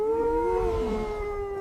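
Jackal in an animated Tamil kids' story about a camel and a jackal, giving a long, steady howl with a slightly wavering pitch, moderately loud and alone.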